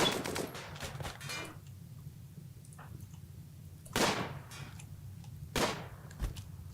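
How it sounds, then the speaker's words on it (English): Gunfire in the RimWorld colony game, a few scattered sharp shots over a low background hum, with one cluster early and single louder cracks later. "I think he's firing at Rick."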